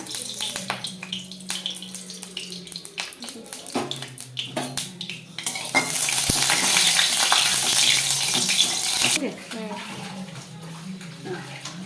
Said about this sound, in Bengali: প্রথমে শামুকগুলোকে ভেজে নিলাম ভেজে নেব এটাকে ভালো করে ভেজে নেব